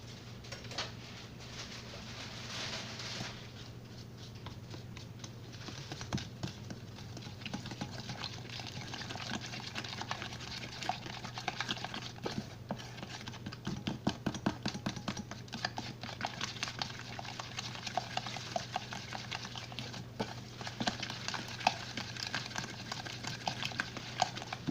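Gluten free apple cinnamon muffin batter being mixed, giving a steady, quiet rhythmic scraping and churning over a low background hum, with no talking.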